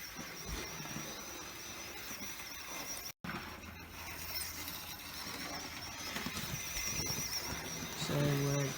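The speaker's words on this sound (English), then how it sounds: "That is the sound of a very stressed motor" A Hornby Railroad 08 shunter model locomotive runs with a strained electric motor, a thin whining squeal and rattling buzz that waver in pitch, with a brief dropout midway, recorded close and fairly quiet.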